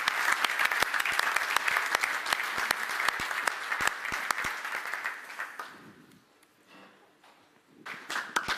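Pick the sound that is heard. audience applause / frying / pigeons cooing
audience applause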